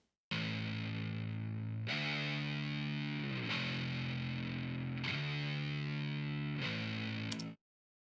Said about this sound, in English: in our bridge, we have a distorted bass